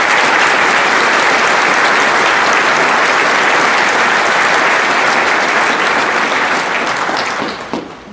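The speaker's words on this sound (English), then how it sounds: "if we could give them a big old round of applause." A large crowd at the grand opening of an arena gives a long, loud, sustained round of applause that fades near the end.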